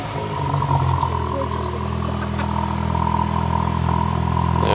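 A VW Golf 8.5 GTI engine held on the soft limiter, producing a loud, steady, close rumble with a faint clattering edge that holds at a constant pitch.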